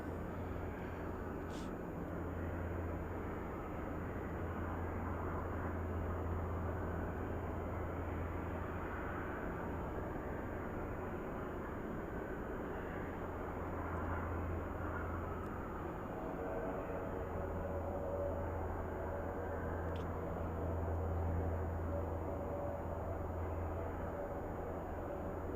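A UPS Boeing 747 is pushed back at snowy Anchorage airport, a continuous distant jet-engine drone with a low, wavering rumble that holds steady throughout, with no voices.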